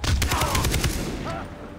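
Rapid bursts of Far Cry 3 gunfire crack out in a quick volley, loud and close, then give way to quieter ambient noise.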